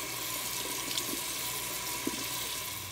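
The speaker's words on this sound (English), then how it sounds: "You want to use just regular house tap water." Tap water runs steadily from a household faucet as a filter is rinsed gently under it, a constant splashing rush with a few soft knocks and no talk.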